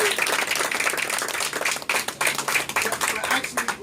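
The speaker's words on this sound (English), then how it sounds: "give yourself a round of applause" A work team claps and applauds together at a Super Saturday meeting, a dense, steady patter of many hands sustained throughout, with voices mixed in under the clapping.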